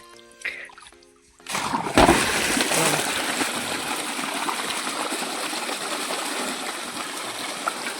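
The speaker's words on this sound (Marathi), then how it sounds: "आता खालच्या गिन्नी गावताला पाणी चाललंय" Water from a motor-fed pipe irrigating guinea grass on a farm: after a short, quieter start, a loud, close gush and splash begins suddenly and continues steadily.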